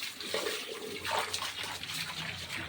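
Tap water runs steadily and splashes as containers fill at home on a cold morning, a continuous close hiss and gurgle with no talk.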